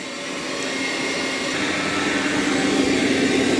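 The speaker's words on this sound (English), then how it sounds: "Okay, so it is going to vacuum that carpet also." A robot vacuum runs over carpet with a loud, steady whooshing suction roar that swells slightly and holds constant, close by and with no talk.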